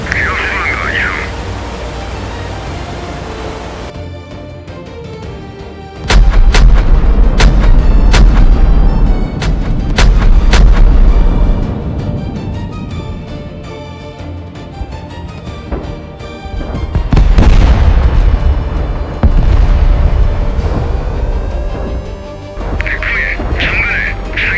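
Naval guns fire in a sea battle, heavy booming blasts with long rumbling decay, the loudest coming in two main bursts between stretches of voices speaking over radio and on deck.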